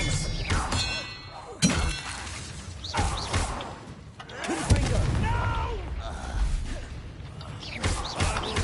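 Spell effects from Hogwarts Legacy, the Expelliarmus disarming charm, go off as sharp shattering cracks and thuds amid game ambience, with a strong hit near the start and another midway, while voices talk over the action.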